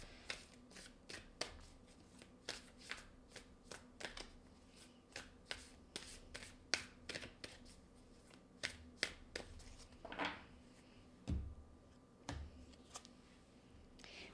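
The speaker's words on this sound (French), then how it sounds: "On va aller chercher toutes sortes de cartes oracles maintenant." Oracle cards shuffled during a tarot-style reading, crisp riffling snaps repeating in quick rhythmic bursts, close and fairly quiet, with no talking.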